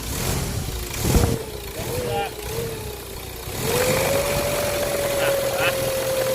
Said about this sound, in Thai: จะได้ยินเสียงเทอร์โบหอนขึ้นมาทันทีเลย